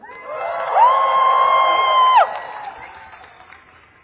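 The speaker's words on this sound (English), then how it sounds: "So please give a round of applause for Dunya." A crowd at an outdoor Palestine solidarity rally in St. Paul, Minnesota, applauds and cheers steadily. A loud, sustained microphone feedback squeal sits over the crowd noise partway through.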